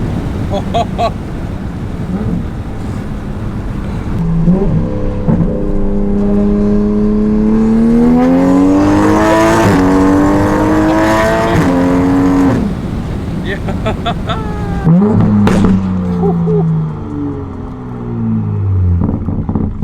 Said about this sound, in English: It's a fast Beamer, dude.